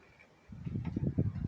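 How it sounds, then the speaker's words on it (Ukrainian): Gusty wind of about 4-5 m/s rumbles and buffets close to the microphone, starting suddenly after a quiet moment and surging in uneven pulses. "Заодно можемо почути шум. Це вітер"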